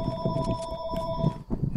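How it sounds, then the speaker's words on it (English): A house landline rings with steady electronic tones that persist through the whole stretch, mixed with soft thumps and game noise in the background. "It's not a Benny No video without my phone ringing."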